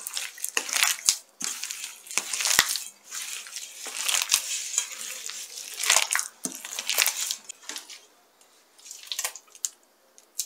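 Spinach börek filling is mixed by hand with a spoonful of salt, giving close, wet squelching and crunching bursts of leaves pressed and turned, in irregular clusters with brief pauses, no talk.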